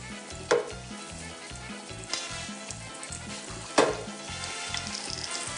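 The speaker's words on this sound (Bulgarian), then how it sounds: "Сега ще видим какво става в фритюрника. Можем да сложим повече тиквички. Разбърквам ги." Breaded zucchini bubbles in a deep fryer, a steady close sizzle broken by a few sharp knocks and clatters as the pieces are stirred, with no talking.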